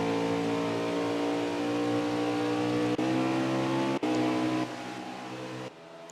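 Race cars in a Pocono Raceway racing video game accelerate at a sustained, loud engine drone, with steady revving tones and a couple of brief dips as the pack powers on under yellow-flag conditions.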